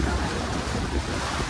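Steady, heavy wind rushing across the microphone with a broad roar, continuous and loud for the whole moment, no voices.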